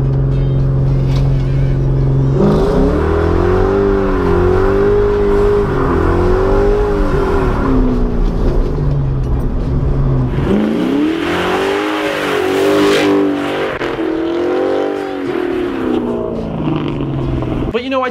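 A Ford Mustang GT V8 cold-starts and idles loud and close, then revs in repeated rising and falling pulls, with a stronger burst of revving near the end.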